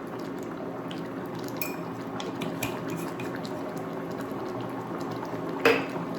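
Pony fish simmering in a pot, a soft steady bubbling hiss with occasional light clinks of a utensil and one sharper knock near the end.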